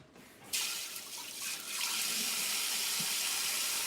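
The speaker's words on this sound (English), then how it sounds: "Let's rinse this off over here." Water runs steadily from a kitchen tap as something is rinsed under it, a continuous splashing hiss that starts abruptly and holds loud and close to the end, with no talk.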